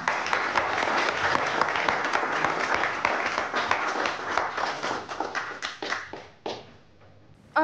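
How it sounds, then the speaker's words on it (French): An audience in a hall at an evening partnership event applauds steadily, dense clapping that holds for several seconds before thinning out to scattered claps and fading. "ce soir, on peut vraiment vous applaudir"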